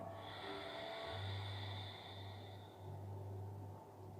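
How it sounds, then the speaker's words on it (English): Slow, audible ujjayi ocean breath during yogic pranayama, a soft airy exhale hissing steadily over a low hum, close and fairly quiet, with no talking. "That sound now is you creating your own waves with the breath."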